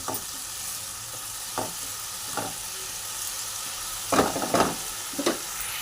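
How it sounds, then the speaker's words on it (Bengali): Spice paste loosened with a little water sizzles softly in a pan for a Bengali pumpkin, potato and prawn curry, with a few scattered spoon scrapes and a quicker cluster of stirring strokes near the end. "মিক্সিতে আমি যেই জলটা রেখেছিলাম এই জলটা আমি একটু দিয়ে ভালো করে একটু কষিয়ে নেব"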